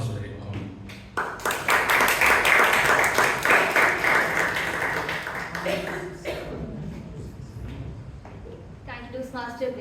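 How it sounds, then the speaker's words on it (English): Audience applause at a Toastmasters club meeting in Bangalore, a sustained burst of clapping that swells and then thins out, with voices talking near the end. "Let's all have a huge round of applause once again for Toastmaster Ganesh."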